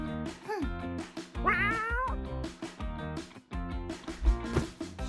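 A cat meows several times in a row, close by, with drawn-out, wavering calls and short pauses between them; no one speaks.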